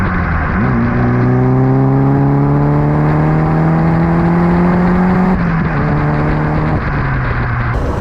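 A 20V turbo engine in a VW Mk1 Caddy pulls hard under about 14 psi of boost, its loud, rising note climbing steadily before dropping at a gear change and pulling again, then shifting once more.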